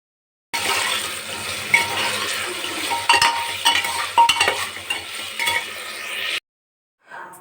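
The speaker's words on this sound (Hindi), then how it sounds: "मैंने आलू गोभी को फ्राई कर लिया था और फटाफट से मैं सब्ज़ी को फ्राई करने जा रही थी" Potato and cauliflower curry fries in a pan with brisk stirring, close sizzling mixed with irregular metallic scrapes and clinks of the spoon, cutting off abruptly before a brief faint sound.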